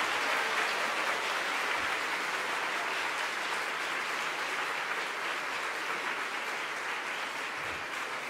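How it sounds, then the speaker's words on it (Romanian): An audience at a school Christmas celebration applauds a children's choir on its first time onstage, a steady, even roar of many hands clapping throughout, fairly distant in the hall. "vă rugăm frumos să îi aplaudați"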